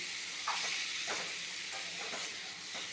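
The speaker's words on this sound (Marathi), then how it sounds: "कोलंबीला मी मीठ आणि हळदने मॅरिनेट करून ठेवलेलं आहे आता ही आपण चांगली परतून घेऊया" Prawns marinated with salt and turmeric sautéing in a pan over a low flame, a continuous bright hiss and sizzle with soft stirring pulses recurring every half second or so.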